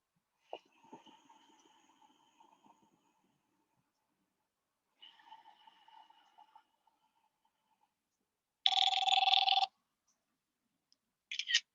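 A phone ringtone cuts in during a quiet early Saturday morning group session: a sudden loud electronic burst lasting about a second, then a brief second chirp, after soft low background sounds.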